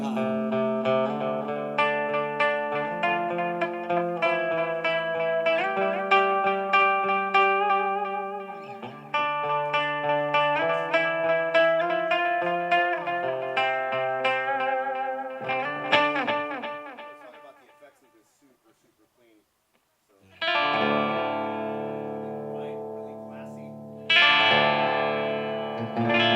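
An electric guitar plays through a Blackstar amplifier with echo delay in a music store demonstration, with sustained ringing chords and repeating tones that trail off into near silence before loud strummed chords return.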